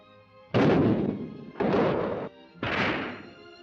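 Three loud gunshot blasts in succession at a shooting range, about a second apart, each with a sharp attack and a decaying tail, from 1960 Ukrainian sports newsreel footage.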